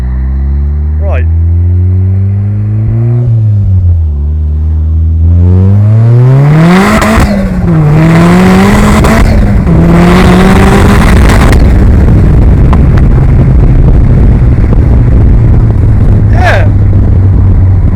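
A 340 bhp turbocharged Mazda MX-5 sports car accelerates hard through several gears, its engine note climbing loud and close with sharp shift breaks, then settling into a steady roar with wind noise.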